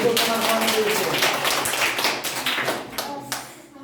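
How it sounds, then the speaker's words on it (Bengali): A group in a classroom-style gathering claps for a team, a burst of brisk, dense applause from many hands that thins out and fades over a few seconds, with some talk mixed in. "এই ওদের জন্য একবার হাততালি হয়ে যাবে"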